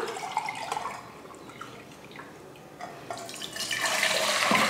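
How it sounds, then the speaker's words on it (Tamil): Water poured from a small vessel into an idli steamer pot on a kitchen stove, a splashing, trickling pour that fades briefly then returns louder and fuller near the end, heard alone. "இப்போ ஸ்டவ் ஆன் பண்ணிவிட்டு இட்லி பாத்திரம் வச்சுட்டு தண்ணி ஊற்றிக்கலாம்"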